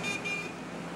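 A car horn toots briefly twice at the start, a high steady tone over a continuous rumble of street traffic.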